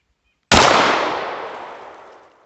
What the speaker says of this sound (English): we're gonna take our first shots down there